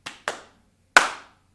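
Children clap their hands in three quick, sharp bursts, two close together and then a third after a short pause, alone in a quiet room.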